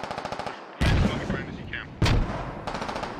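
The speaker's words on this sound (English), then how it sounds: "so there was a mortar barrage" Mortar rounds and gunfire in the Squad military shooter game, with a rapid burst of shots followed by two heavy, booming impacts about a second apart and more firing between, loud and close.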